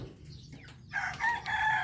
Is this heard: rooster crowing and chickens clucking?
yes